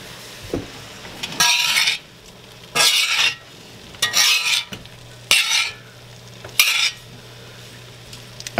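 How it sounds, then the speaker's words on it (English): A spoon stirs a mixture with onion and garlic powder in five loud, scraping bursts with short pauses between them, close and clear, with faint clinks and no talking. "And mix that thoroughly."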